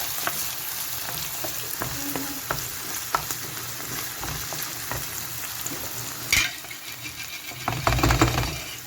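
Ingredients stir-fried in a pan give off a steady, close sizzle, broken by scattered scrapes and taps of the stirring utensil, growing louder and busier toward the end.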